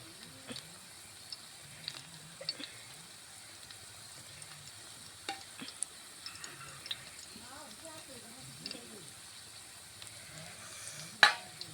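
Pieces of fish shallow-frying in a pan and being turned over, a faint steady sizzle punctuated by soft clicks and scrapes of a spatula, with a quiet voice speaking intermittently.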